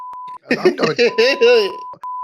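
A steady censorship beep tone sounds at the start and end, with a voice speaking loudly between the beeps.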